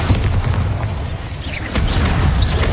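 A Bombarda spell blast goes off in Hogwarts Legacy, a loud, sustained booming rumble with crackling debris that fills the whole moment without pause.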